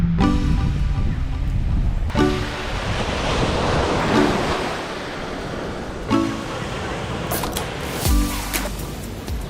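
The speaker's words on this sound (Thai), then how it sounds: "คลิปนี้นะครับจะพาเพื่อนมาเที่ยวชายทะเล" Sea waves roll in at Hat Tha Chetsada beach in Sattahip, Chonburi, loud and close, with several crashes and surges of surf mixed with strong wind buffeting the microphone.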